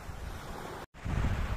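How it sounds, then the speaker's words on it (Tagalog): Sea surf rolling onto the beach at night at New Coast, Boracay, a steady broad wash of waves with wind rumble on the microphone, close and alone, briefly cut out then returning louder. "Yung tunog ng dagat."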